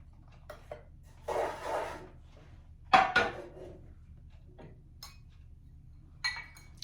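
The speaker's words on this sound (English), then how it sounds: "So I am going to put in the pan, I'm going to put my sugar, cocoa, and milk." Sugar, cocoa and milk go into a pan of melted butter: a soft pouring rush followed by a few close clinks and knocks of utensils against the pan, with quiet pauses between.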